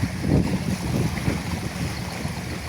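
A boat on the Jamuna River, setting out for a remote char, gives a steady low rumble mixed with wind buffeting and wave wash that continues without a break.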